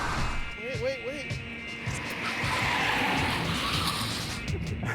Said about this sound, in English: Rich takes the first test drive